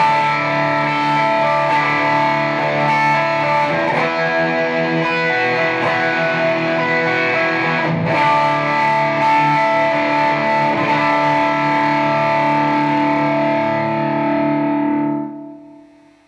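Electric guitar strums sustained, complex chords through a TC Electronic Dark Matter distortion pedal with the gain fully cranked, giving a thick, saturated and loud tone that rings steadily before cutting off and fading at the end.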